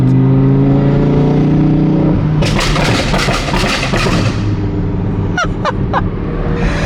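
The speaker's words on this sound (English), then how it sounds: "I told him I wanted just some burble back, you know? Like a little bit of burbles." An Audi R8 with a loud flame-tune exhaust rumbles with a deep steady drone, then crackles and pops in a run of sharp burbles, with a few brief high squeaks near the end, close and loud.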